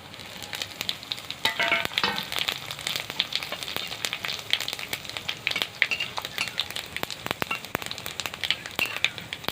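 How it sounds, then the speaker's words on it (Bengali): Sugar, bay leaf, poppy seeds, whole cumin and dried chillies fry in hot oil, a loud continuous crackling sizzle with sharp spitting pops scattered throughout, close by and without speech. "মশলাগুলো ভাজা হয়ে গেছে।"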